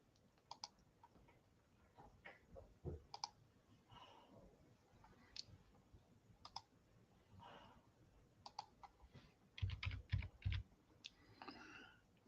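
Sparse, scattered clicks from a computer mouse and keyboard, with a brief cluster of louder taps near the end, set against a quiet room background.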